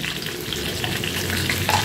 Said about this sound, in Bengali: এবার ভেজে নিচ্ছি আলু সহ